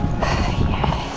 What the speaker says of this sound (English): it's been a very long time since Beau has walked over pebbles and stones with a rider on his back